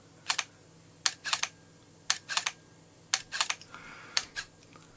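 An old camera's shutter firing repeatedly, close and fairly loud: quick crisp clicks arriving in tight bursts of two or three, about three per second, over a quiet background with no talking.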